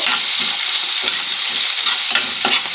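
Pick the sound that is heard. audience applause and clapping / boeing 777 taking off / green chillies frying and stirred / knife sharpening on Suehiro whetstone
green chillies frying and stirred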